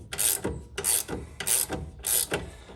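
Ratchet clicking in four quick bursts, tightening the tie rod on a Nissan S13 drift car during an angle kit install, close up and alone.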